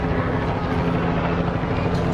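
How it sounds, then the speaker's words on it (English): Police helicopter flying overhead near a whale watching boat in Boston Harbor, heard as a steady, continuous rotor and engine drone with a low hum, mixed with wind and boat noise throughout. "and there's a helicopter."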